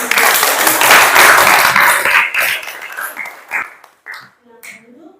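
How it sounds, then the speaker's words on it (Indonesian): A classroom of pupils claps together, a dense burst of hand clapping that fades into scattered claps and voices over about five seconds. "Tepuk tangan dulu."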